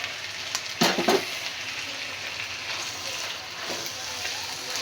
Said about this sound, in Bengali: এখন এই যে চাউলটা দিয়ে দিব, চাউলটা দেওয়া হইলে একটু নাড়াচাড়া করব।